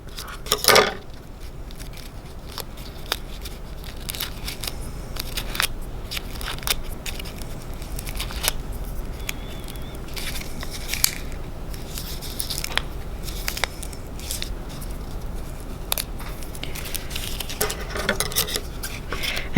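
Scissors snip through folded paper while cutting a paper snowflake, a long run of small irregular clicks and crisp cuts heard close up and fairly quiet, with no talking.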